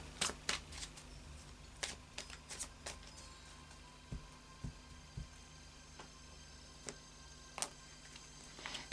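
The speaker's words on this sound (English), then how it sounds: "a final shuffle of the Light Seers Tarot" Light Seers Tarot cards being shuffled by hand in a quiet room, a series of soft, irregular card snaps and riffles spaced a second or so apart, close and faint, with no talking.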